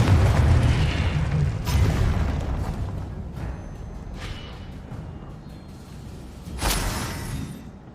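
Confringo fire spell blasts in Hogwarts Legacy on PS5 burst out as several loud booming impacts, one at the start and a sharp heavy one near the end, with softer crackling pops between and a fading roar of flame.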